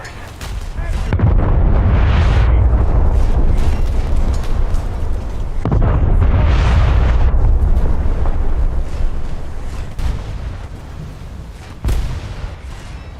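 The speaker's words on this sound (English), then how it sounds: "A Scharnhorst torpedo of all things" A Scharnhorst torpedo striking a ship in a naval video game, heard as heavy, rumbling explosions that swell and roll, followed later by sharper, isolated impacts.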